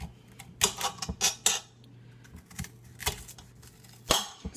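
A knife cuts off an unwanted piece of food, giving a few sharp, close clicks and taps against the cutting surface, with quiet pauses between them. No one speaks.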